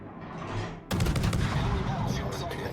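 Rapid naval gunfire from World of Warships: a quieter rumble, then a sudden loud salvo with repeated sharp bursts over a sustained roar, close and dense.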